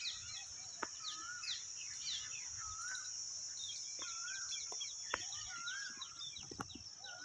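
Peacocks calling around a farmhouse field: repeated rising, wailing calls ring out over steady high insect or bird chatter, with scattered sharp chirps and clicks from several birds at varying distances.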